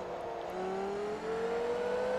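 Lexus LFA V10 supercar engine in Forza Motorsport 3, a steady smooth drone with a tone slowly rising as it accelerates, brief dip midway, heard alone.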